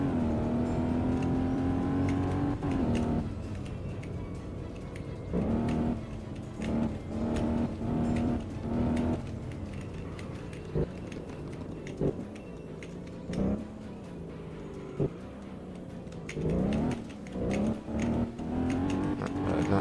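An Alfa Romeo 8C Spider in a racing video game, running on snow or drift tires, hums and revs continuously, its pitch rising and dropping with gear changes, mixed with small ticking sounds.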